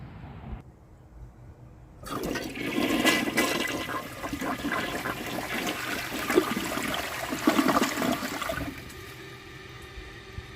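A 1998 Kohler Wellworth Ingenium toilet flushes on its factory setting, a loud rushing surge of water that starts abruptly and swirls steadily for several seconds before tapering into a softer refill trickle.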